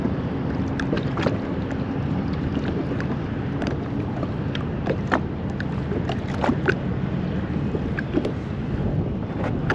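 Great Republic freighter stern with propellers turning and rudder moving: a steady churning rumble of water and engine under gusty wind buffeting the microphone, continuous and fairly loud.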